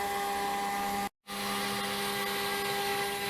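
CNC router cutting a logo into wood, a steady droning mechanical whine with constant tonal hum, near and loud, briefly cutting out for a moment before resuming.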